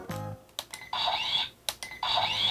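Electronic tones from the CSM Faiz Gear toy camera as its shutter button is pressed: clicks followed by bright, warbling chime-like jingles, repeated twice, close and clear.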